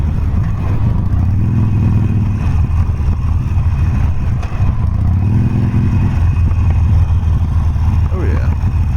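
A Harley-Davidson Sportster Forty-Eight engine rumbles steadily and loud throughout while riding, a deep continuous drone with slight swells, with wind noise and a voice talking over it.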